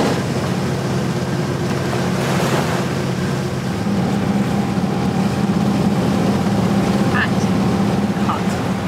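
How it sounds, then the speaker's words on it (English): Sailboat motoring under engine power across a flat bay, a constant low engine drone with rushing water and wind noise throughout, with faint voices in the background. "The bay here is pretty flat, so motoring is as easy as motoring can be."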